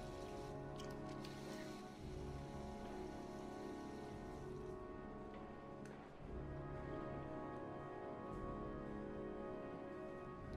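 Steady rain falls in the video game Heavy Rain, a dense, even patter that fills the whole stretch, with music playing alongside and a brief dip near the middle.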